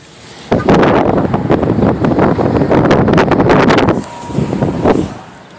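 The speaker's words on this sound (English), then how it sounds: "Just to give you an idea how windy." Strong wind buffets the microphone outdoors in loud, roaring gusts that rise suddenly, hold for several seconds, ease briefly, then surge again before dropping away.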